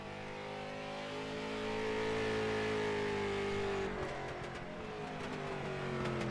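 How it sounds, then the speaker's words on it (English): Street stock race car lapping a circuit during a racing league session, its engine droning loudly and steadily with a rising then falling pitch, no voices over it. "We will join John Cross in the number 10 and see what he's able to do on his second lap, currently in 19th."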